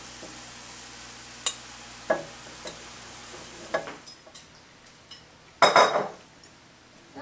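Chopped nettles and lamb's quarters going into a pan, heard as scattered light clinks and taps of a utensil against cookware, then a louder clatter and a soft rustle, close and quiet.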